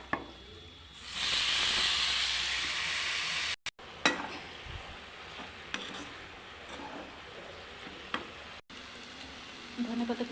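A spiced cabbage mixture hits a hot wok with a sudden loud sizzling hiss that swells for a few seconds, then settles into quieter frying with scattered scrapes and knocks of stirring.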